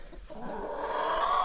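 Chickens on a snowy farm cluck softly nearby, a short, busy burst of overlapping fowl calls that grows a little louder toward the end, with no talking.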